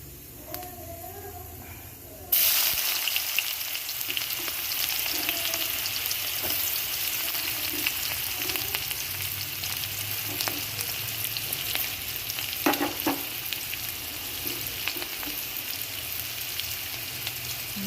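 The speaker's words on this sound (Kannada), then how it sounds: "ಇದನ್ನು ಚೆನ್ನಾಗಿ ಬ್ರೌನ್ ಬರೋವರೆಗೂ ಹುರ್ಕೋಬೇಕು" A sharp burst of sizzling as a large onion and green chillies hit hot oil in a pan for egg rice, then a steady, loud fry with occasional scrapes of stirring.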